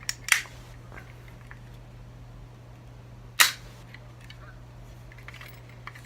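Two sharp, loud cracks from a gun in a Sherlock and Watson role play, about three seconds apart, each ringing briefly over a quiet, faintly humming room.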